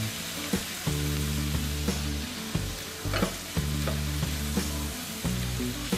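Chicken Manchurian ingredients frying in a pan: a steady loud sizzle with repeated stirring scrapes and clacks, over a tonal hum, with no talking.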